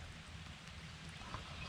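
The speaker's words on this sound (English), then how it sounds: "it's starting to rain" Light rain falling outdoors at an inner-city island fishing spot, a steady soft hiss of drops with a low rumble beneath, continuous and fairly faint throughout, with no talking.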